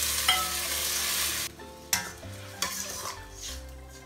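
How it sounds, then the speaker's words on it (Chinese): Winter bamboo shoots stir-fried in a hot wok, a steady close sizzle with scraping stirs and a few sharp clanks of the spatula against the pan, no talking. "这个冬笋要给它多煸炒一会儿，它里面那个涩味就煸出来了。"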